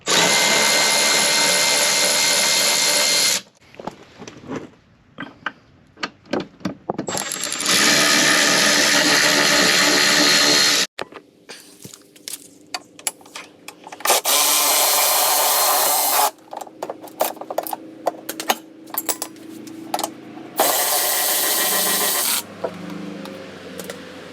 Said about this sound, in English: go ahead and remove these 4 Allen bolts holding the step in place